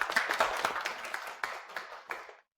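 Brief round of hand clapping in an office as a new supervisor is welcomed, a handful of sharp claps that taper off within a couple of seconds, fairly quiet and with no talk over it.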